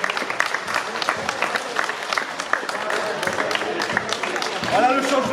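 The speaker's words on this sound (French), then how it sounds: "Allez, applaudissez, les gars." Football team applauding together, a dense burst of clapping mixed with cheering, and people talking over the noise throughout.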